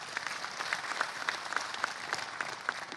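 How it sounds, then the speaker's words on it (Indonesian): A crowd at an Indonesian 2024 election peace-declaration parade applauds the election commission, dense continuous clapping with individual sharp claps standing out, steady and fairly close, no talk over it. "Terima kasih, tepuk tangan untuk KPU."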